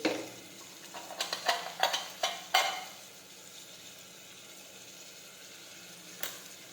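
Cumin and crushed garlic chutney hitting hot oil for a dudhi dal shak, with a run of sharp spoon-and-pan clatters early on over a low steady sizzle, then quieter frying and one last scrape near the end.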